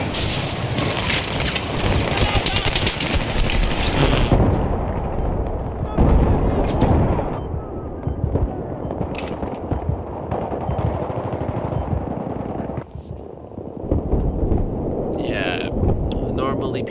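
Sustained FAMAS rifle fire and other gunfire in a Battlefield 3 multiplayer match, loud dense bursts and booms running almost throughout, with a player talking over the battle.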